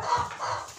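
A Russian crested hen clucks briefly up close, a short burst of throaty calls with no talking.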